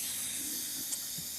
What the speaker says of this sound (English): gently, on the wrong side, gently vent that steam right onto my camera